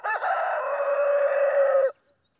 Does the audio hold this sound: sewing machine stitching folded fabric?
no